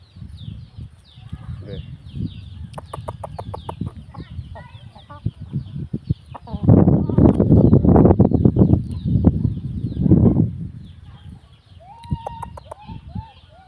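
Young Thai game chickens on a rural farm give repeated clucks and short calls, a louder burst of flapping and scuffling in the middle, with people talking nearby.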